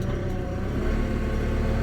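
A Kubota L6060 tractor backs up in four-wheel drive, its engine a steady, close low rumble with a slight rise partway through and no voices.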